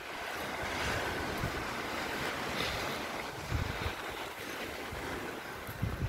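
Sea waves wash onto the beach at Skegness on a calm morning, a continuous surf rush with light wind buffeting the microphone and occasional louder swells, heard without voices.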